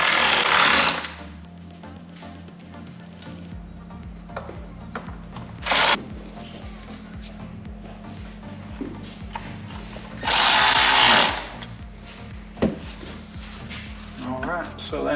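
A power tool drives screws back into a speaker bracket on a 2019 Harley Davidson, in several short loud whirring bursts with quieter handling noise between them.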